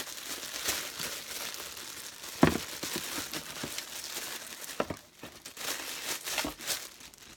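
Plastic packaging crinkles and rustles as a GameCube controller from an Evoretro Nintendo Switch starter kit is unboxed, with close crumpling and a few sharper tearing snaps.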